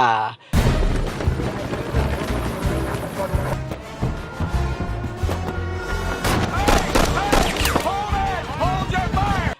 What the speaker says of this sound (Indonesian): Roy tersudut dan melepaskan tembakan yang akhirnya membuat Roy terjatuh ke sungai.